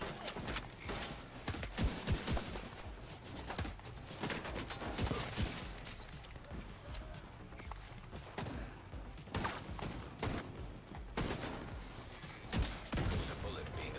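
Rapid gunfire in The Division 2, dense overlapping shots and cracks over a sustained battle din, loud and continuous, with a voice talking faintly underneath.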